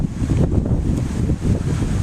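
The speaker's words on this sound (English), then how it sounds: "wind is blowing, which helps." Steady outdoor wind in Mesa buffets the microphone, a continuous loud low rumble with gusty fluctuations and no voices.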